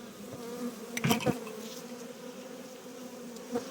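Honeybees buzz steadily around an open hive during a spring inspection, a continuous close drone with a few brief knocks and rustles of frames being handled.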